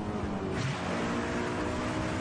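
A Honda S2000 sports car engine roars steadily at high revs, loud and close, with a brief surge early on and no voices.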